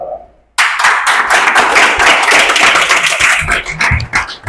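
Loud audience applause bursts in abruptly after a brief quiet moment, a thick wall of many hands clapping continuously and close, tapering slightly at the end.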